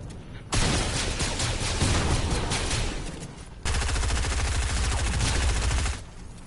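Gunfire in Fortnite, two long sustained bursts of rapid automatic fire, loud and close, separated by a brief break and trailing off at the end.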